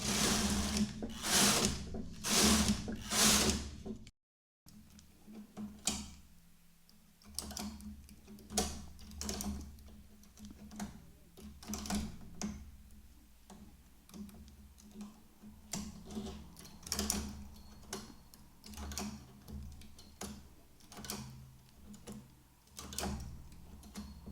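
A knitting machine works across four rows, and its carriage makes regular clacking ticks in a steady rhythm after a brief gap of silence, close and fairly quiet.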